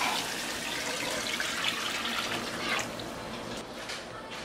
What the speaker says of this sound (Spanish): Y ahora vamos a agregar el agua.